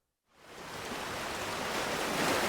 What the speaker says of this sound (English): I'm by the sea